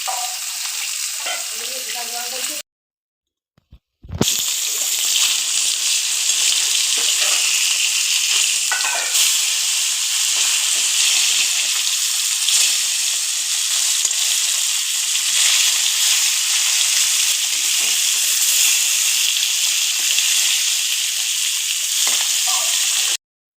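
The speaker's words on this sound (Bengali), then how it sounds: "আমার বোন বসিয়ে দিয়েছে রুই মাছ ভাজা" Rohu fish frying in oil in a pan, a strong, steady crackling sizzle that runs on with little change after a short silent break near the start, with occasional faint knocks.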